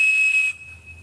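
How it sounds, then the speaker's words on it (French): A Cap'n Crunch cereal-box toy whistle blown into a single piercing steady 2600 Hz tone, loud and close for about half a second before fading into a quieter trailing note and low rumble. "Cet objet, c'est un sifflet Captain Crunch."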